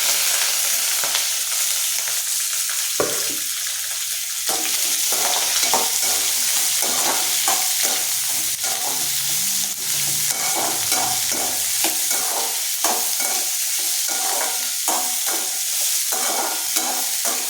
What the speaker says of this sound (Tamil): ரெண்டு பெரிய வெங்காயம் நறுக்கி வச்சுருக்கேன் மூணு பச்சை மிளகாய் நறுக்கியிருக்கேன் அதை சேர்த்து வதக்கிக்கிறேன்